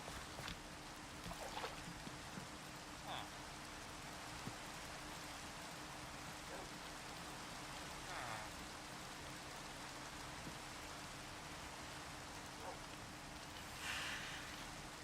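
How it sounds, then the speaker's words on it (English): Rain falls in a modded Minecraft world as a steady, soft hiss of drops, continuous and even, with faint occasional clicks and game sounds beneath it. "It's always raining over here."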